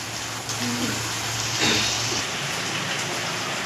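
Goat meat being sautéed in oil gives a steady, close, rain-like sizzle and spatter with a few louder bursts, continuous under a person speaking.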